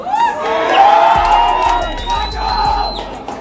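An audience at a live stage event cheers, whoops and shouts as a music director is welcomed on stage: a loud, close burst of crowd noise with a voice calling out over it.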